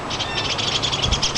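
Small birds call agitatedly overhead in a backyard, fast repeated high chirps and caws in steady bursts, fairly near, with a low rumble underneath.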